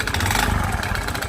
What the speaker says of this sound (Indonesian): Nah, beginilah suara mesin motor Beat ini. Kasar apabila dihidupkan ya.